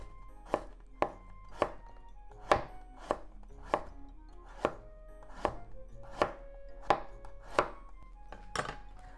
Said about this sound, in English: Just in case if you want to use knife, make very thin slices.